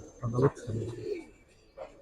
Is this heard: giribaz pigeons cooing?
yes